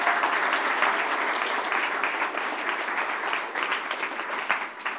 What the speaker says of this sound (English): can we just get a round of applause for the video team?